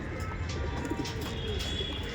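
Rampuri pigeons coo softly inside a loft, low repeated murmuring calls with occasional chirps over a steady background hum, no talk during the stretch.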